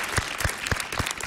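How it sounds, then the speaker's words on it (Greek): Brief burst of studio audience applause on a Greek late-night talk show for guest Kostas Martakis, rhythmic claps filling the room at steady volume for just over a second. "Ένα χειροκρότημα για τον Κώστα Μαρτάκη."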